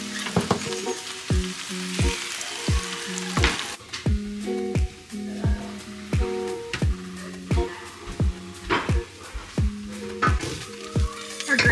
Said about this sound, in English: we're just throwing that into a pan with some onion, garlic, and oil